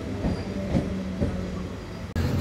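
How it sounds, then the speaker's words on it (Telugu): A MEMU express train departs Bhimadolu station with a steady low rumble and rhythmic clickety-clack of wheels over rail joints, close and continuous, with faint squeal and no talking. "భీమడోల్ నుంచి మన ట్రైన్ బయలుదేరిపోయింది."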